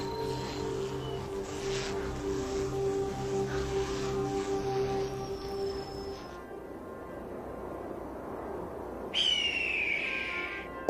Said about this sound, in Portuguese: O pio agudo do falcão de cauda vermelha leva-me até uma jovem fêmea